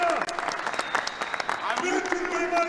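Loud, sustained audience applause fills a boxing event in the Balkans, a dense patter of clapping running throughout while an announcer's voice shouts over it.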